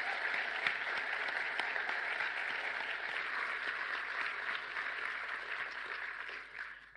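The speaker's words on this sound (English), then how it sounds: "Let's give Duncan a big round of applause and his family" A community farewell crowd claps for Duncan Pegg and his family, a broad, even wash of applause that holds steady for several seconds and then thins and fades out at the end.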